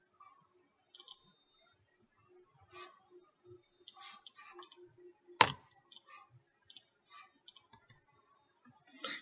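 Computer keyboard keys pressed near a server setup: sparse, quiet clicks scattered irregularly across near-silence, with one sharper, louder key strike midway.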